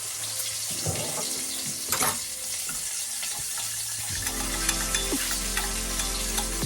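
A cream sauce is stirred in a frying pan, with a soft, steady sizzle and scraping stir strokes under occasional clinks, close up, with no voices.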